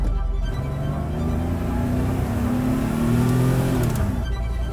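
A VW T3 B32 Carrera van fitted with a Porsche engine of over 200 horsepower accelerates on a German road trip, its engine note climbing through gears, heard steadily from inside the cabin.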